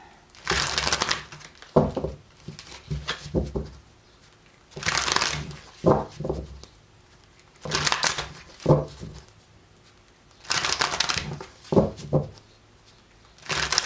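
Tarot cards are shuffled close by in recurring bursts, crisp riffling and slapping rustles every couple of seconds, with quiet gaps between.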